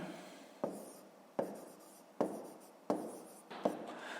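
A pen works through a fifth-grade maths exercise on paper, laying down five distinct scratchy strokes at a roughly even pace, quiet and close, with no voices.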